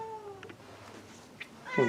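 A cat meows a few times, soft and close, with a short, sharper call at the end in a quiet room.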